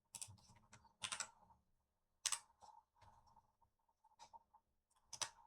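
Computer keyboard keys clatter in short bursts of close, crisp clicks separated by brief pauses, sounding like quick copy-and-paste shortcuts rather than steady typing.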